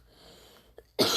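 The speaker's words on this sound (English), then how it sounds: "Boy, that's a deadly cough." A single loud, harsh cough bursts out close by at the end, after a quiet stretch and a faint throat sound.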